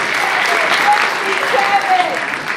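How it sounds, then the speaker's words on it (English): Audience applause at a live comedy show at the Music Box Theater in the Borgata, Atlantic City, steady and moderately loud, with scattered voices and whoops over the clapping. "They clap it up for that."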